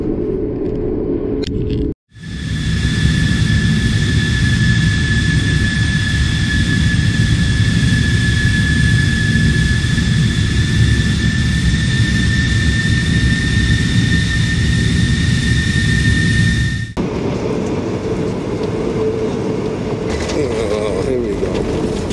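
Jet airliner engines bound for Anchorage drone loudly and steadily inside the cabin, a dense roar with a sustained high whine that continues unbroken for about fifteen seconds before cutting away.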